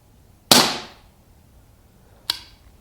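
A Colt Python .357 BB gun fires two sharp shots, a louder crack followed by a quieter second pop about two seconds later, with no voices.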